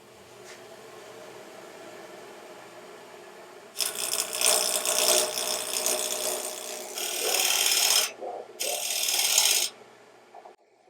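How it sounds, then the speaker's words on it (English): A spindle roughing gouge or square carbide tool cuts wood on a lathe: a loud, rough scraping and rasping starts after a quiet stretch, runs in long continuous passes, then breaks off briefly twice before ending. "I'm going to either use a square carbide or just a spindle"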